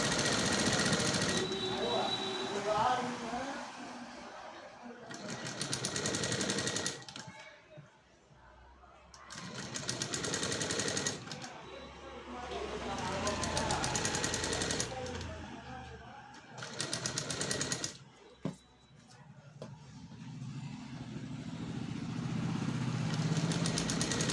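A sewing machine stitching a blouse dori runs in several bursts of a few seconds each, close and fairly loud, with pauses between runs where a person talks.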